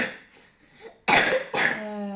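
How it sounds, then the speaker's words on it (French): A girl in the next room coughs, first softly and then in two loud harsh bursts close together, with a throat-clearing quality. "désolée pour la toux de ma fille à côté"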